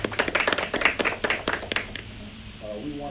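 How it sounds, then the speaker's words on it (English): A small group claps for a county mayor at an indoor proclamation ceremony, with irregular hand claps for about two seconds that fade out, followed by a voice starting to talk. "let us give our mayor a round of applause"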